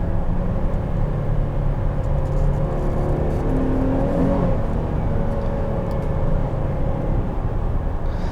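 Steady, fairly loud engine and road drone from inside a 2020 Buick Enclave Premium with its 3.6 engine, holding an even whir throughout with no talking.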